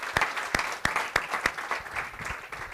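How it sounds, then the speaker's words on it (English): Audience applause after an introduction at a TV and video industry summit in New York, a crowd clapping steadily for a few seconds with a few sharp, louder claps standing out. "Well, first of all, big round of applause for Mark."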